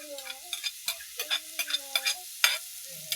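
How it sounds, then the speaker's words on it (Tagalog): Rice and glutinous rice sautéed in a pot, heard as a series of short, close scraping stirs with light sizzle between quiet gaps, no speech. "Igigisa din po natin yan para mabango-bango at mabilis lumambot."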